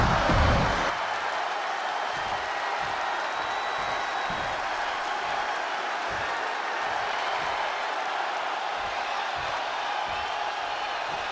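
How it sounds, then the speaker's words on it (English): A hometown crowd roars in an ovation for CM Punk in the wrestling video game WWE 2K26, forming a steady, dense wash of cheering and applause that fills the whole stretch. "Just listen to this ovation for the Second City Saint."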